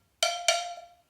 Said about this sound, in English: that's the pattern of the first cowbell.